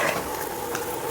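An egg fries in a pan at home, giving a steady, dense sizzle that fills the short moment alone, with no voices.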